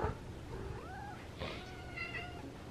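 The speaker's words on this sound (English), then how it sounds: "This is my cat. She's in heat right now, so she's very whiny." A female cat in heat meows in long, whiny, rising and falling calls, several drawn-out cries close by and clear over a quiet room.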